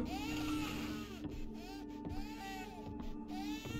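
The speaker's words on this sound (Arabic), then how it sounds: "فيها صوت طفل" A baby's cry in the horror game Visage, wailing in drawn-out, wavering sobs that rise and fall with brief breaks, distant and eerie under a steady low ambient drone.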